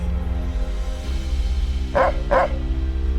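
Two sharp dog barks in quick succession, fairly close, over a steady low hum.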